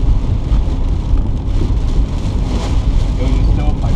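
Heavy rain and wind roar steadily around a vehicle during a tornado chase in Elmer, Oklahoma, a loud, dense wash of noise with no clear pauses.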